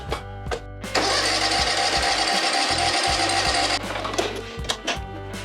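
Husqvarna YTH1542XP riding mower engine cranking without catching, a loud, steady grinding starter churn for several seconds, with choppy mechanical clatter before and after.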